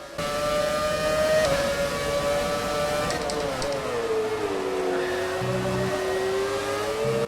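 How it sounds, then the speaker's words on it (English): A V8 Formula 1 car's engine screams in the F1 2017 racing game. The loud, high-pitched whine climbs and drops through gear changes, holding close and continuous throughout. "How awesome do these cars sound, by the way? It's amazing to drive a V8 F1 car again."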